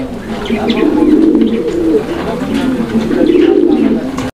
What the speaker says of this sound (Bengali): আমরা এই মুহূর্তে দেখতে পাচ্ছি এখানে আরও এক জোড়া কবুতরের কালেকশন রয়েছে